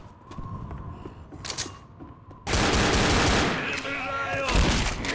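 Automatic rifle fire in the video game Left 4 Dead, a dense, sustained burst of rapid shots that starts abruptly midway after quieter game sounds and single reports, with some speech in the background.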